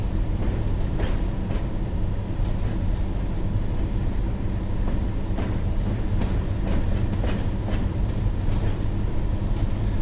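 Freight train rolling along the Tees Valley Line in Train Sim World 2, a steady loud rumble of wheels on rails with faint rhythmic clicks of track joints throughout, no talking.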